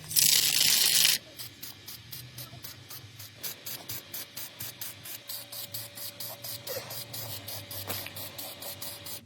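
A spray gun blasts Mercedes Brilliant Silver paint onto a car in one loud hiss of just over a second, followed by a steady train of quick, quieter rhythmic clicks.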